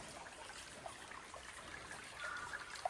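Soft, steady trickling of small woodland waterfalls, a continuous gentle splashing with no voices.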